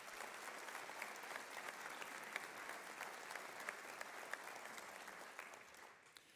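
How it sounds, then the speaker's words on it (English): A seated audience at a police academy graduation ceremony breaks into sustained, even applause, heard at moderate distance, before it tapers off at the end. "So let's give him a round of applause."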